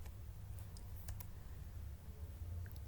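A few keystrokes are tapped on a computer keyboard while a number is entered for an isometric drafting exercise: sparse, light clicks over a steady low hum, fairly close and with no talk.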